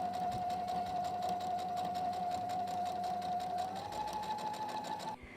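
A sewing machine runs steadily at close range, stitching quilt fabric stripes together with a fast even whirring hum and rapid needle rhythm, then slows and stops near the end.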